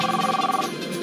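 A telephone rings with a steady electronic trill, loud and close, carrying a fast pulsing rhythm before it fades slightly toward the end.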